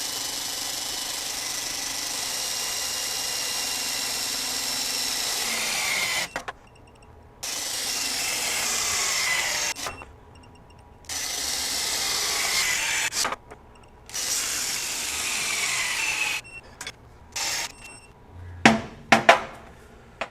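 A Ryobi 18V One+ HP compact impact wrench on power mode 3 torques a bolt toward 300 foot-pounds, firing in several loud sustained hammering bursts separated by short silences, ending with a few sharp clanks.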